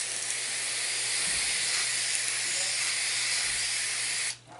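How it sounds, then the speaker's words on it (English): A handheld pump sprayer mists water over seed trays of brassica and onion seedlings in pre-moistened potting mix, a steady close hiss running unbroken for several seconds before cutting off abruptly. "I'm just gonna spray these down a little bit. I've got one of these little fancy pump sprayers."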